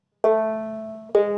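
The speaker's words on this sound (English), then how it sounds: "transforms a melody that sounds like this" Plain, unornamented melody on a krar, the Ethiopian lyre: two clear plucked notes, the first ringing and slowly decaying before the second is struck, close and alone.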